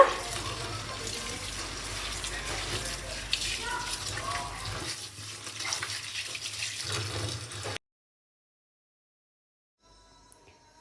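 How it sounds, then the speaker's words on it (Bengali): Water pours and splashes steadily as boiled noodles are drained and rinsed under cold water, a continuous running-tap rush that ends abruptly, followed by near silence with a faint clink. "এখানে নুডলসের পানিগুলো ঝরাই নিতেছি"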